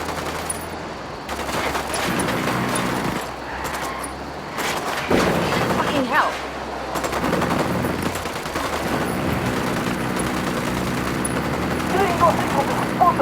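Heavy firefight in Ghost Recon Wildlands against the Santa Blanca cartel: continuous overlapping automatic gunfire with bursts and occasional booms, steady and fairly loud throughout, with voices talking over the shooting.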